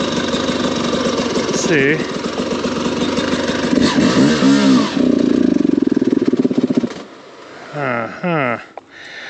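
A dirt bike's engine idles unevenly, is blipped with the throttle a few times, then sputters and dies before brief restart attempts, close and loud, with someone speaking briefly.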